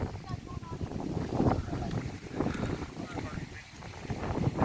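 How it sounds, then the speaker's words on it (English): Thunderstorm wind gusts hard against the microphone outdoors, a rough, surging rumble that swells and fades in uneven waves, with voices mixed in and a sharp burst at the very end. "Windy out there."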